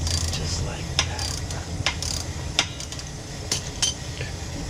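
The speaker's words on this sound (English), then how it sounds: "slip your 12 mil on there. And this is going to be opposite threaded, so you're going to want to crank this bad boy to the right" A 12 mm wrench works a reverse-threaded nut on a Razor dirt bike, giving sharp metallic ratcheting clicks spaced irregularly over a low background hum, close and fairly quiet.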